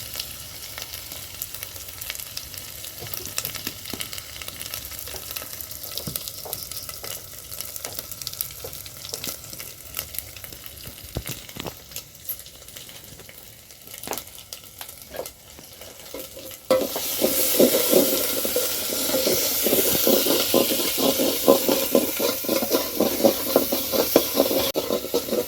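Spice masala with turmeric and salt fries and gets stirred in a pan, with scraping stirs and a soft sizzle that grows suddenly louder and hissier partway through, close up with no talk.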